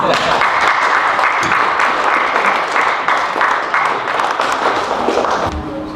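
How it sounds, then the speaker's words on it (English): An audience at a club convention applauds in a dense, steady burst of clapping that fills the space, then thins out and fades near the end. "A round of applause."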